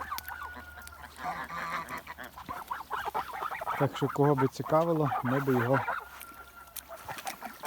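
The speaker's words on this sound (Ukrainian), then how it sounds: "Спереді йдуть звичайні гуси, ззаді холмогори" Kholmogory geese and ordinary geese honk loudly in a cluster of repeated calls close by, while someone talks over the start of the clip.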